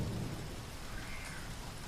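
Heavy rain pours in a dense, steady hiss, with a low rumble of thunder rolling underneath throughout a short stretch.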